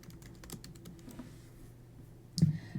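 Keys clatter on a computer keyboard while an answer is entered into an online assessment, a quick run of close, light clicks followed by a brief louder knock near the end, no one speaking.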